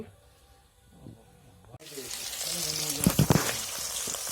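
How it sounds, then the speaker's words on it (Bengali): Chicken pieces hit about 100 grams of hot oil in a wok, a quiet room suddenly giving way to a loud, steady sizzle with popping crackles as frying continues. "কড়াইয়ে তেল দিয়েছি একশো গ্রামের মতো এখানে ভেজে নিতে হবে চিকেনগুলো একটু"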